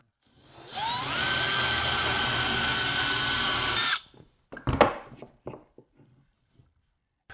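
A power drill bores a straight hole into glued wood blocks, a loud steady whirring run of about three seconds that spins up and stops, followed by a few knocks and clatters of handling the workpiece.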